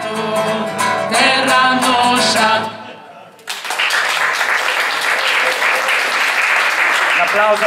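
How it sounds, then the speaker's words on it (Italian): Audience applause at a live folk concert in Salento, dense continuous clapping after a pizzica song with music ending abruptly, then steady loud clapping filling the rest. "Applauso a Sara."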